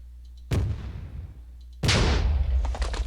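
A World War II gun in the Minecraft Flans Mod fires shells at a tank, producing two heavy booming blasts a little over a second apart, each with a deep rumbling tail, loud and close.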